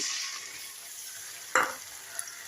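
Spice paste of ground dried red chilli frying in hot oil with chopped onions, a steady close sizzle with a sharp spattering burst midway as it is stirred, then a small clink, no voices.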